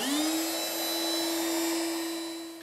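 A power saw with its blade tilted to 45 degrees cuts a tipped-up piece of bookcase trim, its motor whine rising quickly and then holding a steady high pitch before easing off slightly at the end.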